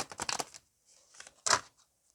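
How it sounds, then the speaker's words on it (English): Tarot cards shuffled by hand, quiet papery riffles and flicks in short bursts with pauses between, close and soft. "I'm trying to shuffle these"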